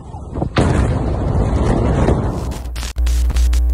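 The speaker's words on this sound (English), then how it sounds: "Explosions in Libya" A loud, close blast from explosions in Libya, with a heavy rumbling roar that builds and then cuts into sharp, crackling bursts and harsh noise.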